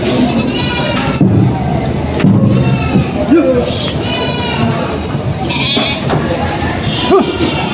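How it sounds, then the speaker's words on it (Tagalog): Several sheep bleat repeatedly at a livestock market, wavering cries close by, while people talk and a rumbling, mechanical background noise runs underneath as animals are loaded. "Yan, ang ganda naman ng mga tupa yun."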